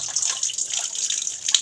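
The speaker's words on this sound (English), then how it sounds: "now before that I will drain the extra water" Excess water draining off soaked idli rice grains, a bright steady trickle and splash of water pouring out, close and continuous for under two seconds with small sputtering bursts.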